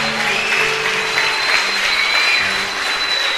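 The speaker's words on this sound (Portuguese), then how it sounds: "Pode aplaudir o Senhor." A church congregation applauds steadily with dense, loud clapping that holds at an even level throughout. A faint sustained tone can be heard underneath.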